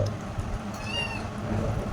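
A single short cat meow rises over a steady low background rumble, fairly close and brief.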